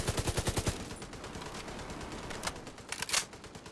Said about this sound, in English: Just a machine gun. Just a normal machine gun